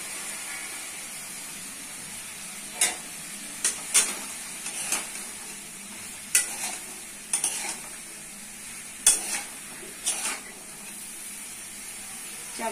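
Ground spices, coriander, cumin and salt with water, cook in a pan, a faint sizzle with scattered sharp scrapes and clinks of a stirring spoon, close and quiet.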